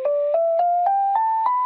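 A dry bell synth patch in a trap beat plays six short evenly spaced notes stepping gradually upward in pitch, clean and close with no reverb tail or other sounds.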